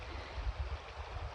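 Steady broadband rush of creek water flowing outdoors, close and continuous, with low rumbling surges and a touch of wind, no voices present.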